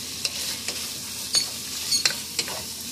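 Beef for bistec ranchero sizzles steadily in a pan while being stirred, with a few close scraping stirs breaking through the constant frying hiss.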